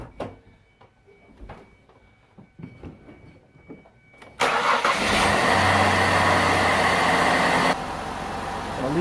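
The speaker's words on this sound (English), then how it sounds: "Let's fire it up, cycle through the gears, check the level." A 2001 Ford Escape sits quiet for a few seconds with faint clicks and shuffling, then its engine cranks and catches suddenly, settling into a loud, steady run that drops slightly in level near the end.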